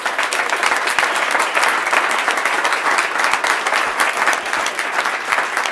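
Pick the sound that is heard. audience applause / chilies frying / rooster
audience applause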